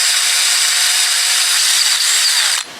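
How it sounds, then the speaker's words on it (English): A Dremel rotary tool working on parts from a 20 hp Johnson outboard motor, a loud, close, steady high-pitched whine and grind that runs continuously and then cuts off abruptly at the end. "Dremel tool."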